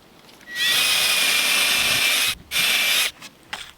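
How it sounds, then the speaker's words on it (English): A power drill with a 3 mm bit drilling a pilot hole through a door whines at high speed for about two seconds, stops briefly, then runs again in a shorter burst, close and loud. "drill a pilot hole with a 3 millimeter drill bit"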